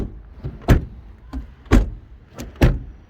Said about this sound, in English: Door shut sounds.